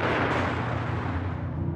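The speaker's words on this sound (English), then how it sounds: "the armored cruiser Schleswig-Holstein opened fire on the Westerplatte with all its guns. The barrage continues." A heavy boom of naval gunfire from the armored cruiser Schleswig-Holstein shelling the Westerplatte, a loud rumbling blast with a long decaying low roar, heard alone.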